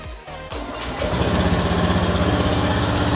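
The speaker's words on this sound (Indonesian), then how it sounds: "Setelah oli terisi, maksudnya kita panaskan lagi motornya dengan cara" A Honda Beat fuel-injected scooter engine cranks for a moment, fires up and settles into a steady, loud idle that runs on without any talking.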